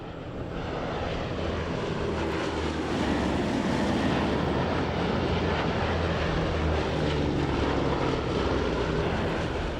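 A Boeing B-17 Flying Fortress bomber's piston engines drone in a dense, steady roar, loud and continuous with a slight swell midway.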